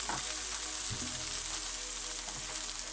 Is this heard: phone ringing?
no